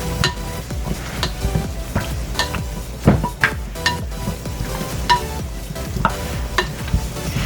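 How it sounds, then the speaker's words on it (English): Chicken wings are tossed in olive oil in a bowl, making steady wet stirring and slapping sounds with repeated sharp clatters as the pieces are flipped, close and fairly loud, with no talk. "Kind of get these tossed to help that olive oil coat the surfaces."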